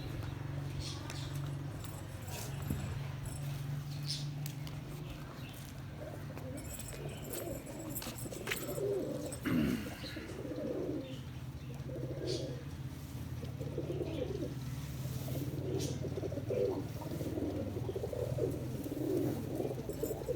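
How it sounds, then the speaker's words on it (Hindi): Pet pigeons coo on a house rooftop, soft repeated low throaty calls forming a steady background, with someone talking faintly now and then. "यह साडा लक्का कबूतर है।"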